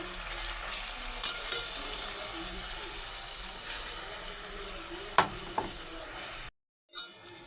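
Onion paste sizzles and crackles steadily in oil while fish curry is cooked, with a couple of sharp stirring clinks near the end before it cuts to near silence.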